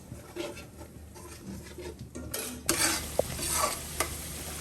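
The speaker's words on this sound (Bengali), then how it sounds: "কলিজির জন্য মশলা কষাচ্ছি" Spices frying for chicken liver, a soft sizzle with scraping stir strokes that turn louder and busier halfway through, with a couple of sharp clinks of the spoon against the pan.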